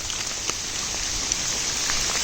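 Heavy rain pours steadily and loudly during a trek to Nimgiri Fort, a dense, unbroken hiss with no voices.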